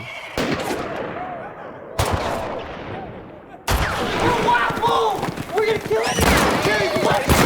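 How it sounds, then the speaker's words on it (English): Several loud gunshots in a drama set in the 1880 American West ring out one after another, sharp cracks with echoing tails, amid shouting voices and background commotion. "I heard a gunshot."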